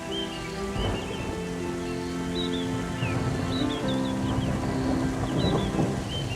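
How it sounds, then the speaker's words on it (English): Heavy rain pours down across an African basin on a late-April night, a dense, steady roar with rumbling thunder underneath and faint bird calls above, continuous and close throughout. "heavy rain descends across the basin."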